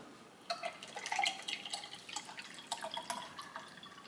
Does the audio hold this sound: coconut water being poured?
yes